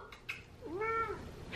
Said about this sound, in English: the cat wanted to say hi.